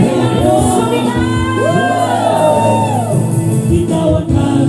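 A church congregation shouts together at a worship service, a loud sustained mass of voices with rising whoops and yells filling the room for several seconds.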